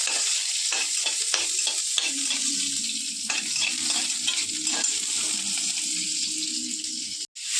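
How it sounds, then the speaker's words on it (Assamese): Onions sizzle steadily in hot mustard oil with bay leaf, cinnamon and cloves, a close, continuous frying crackle broken by stirring scrapes. It stays loud throughout and cuts briefly near the end. "পিঁয়াজখিনি ভাজি লওঁ।"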